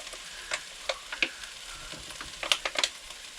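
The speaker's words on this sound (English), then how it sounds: "we're going to put our chorizo sausages in. And our pork sausages in." Chorizo and pork sausages frying in a crowded pan in a motorhome kitchen, a soft steady sizzle with scattered light pops and ticks, close but quiet, no talking.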